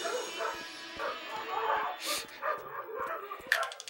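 Dogs bark and yip repeatedly, a sanity effect in the video game Eternal Darkness, the barks layered over game noise with a person talking in places.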